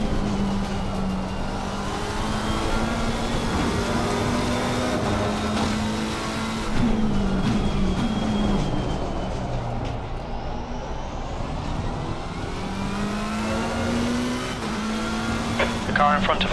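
Simulated race car engine in Assetto Corsa Competizione, the engine droning and shifting pitch through gear changes over a long stretch, with a race engineer's voice talking over it.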